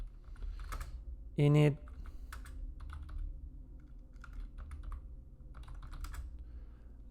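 Keys clack on a computer keyboard as a command is typed, scattered quiet taps between bursts of someone talking, with one louder voiced moment partway through.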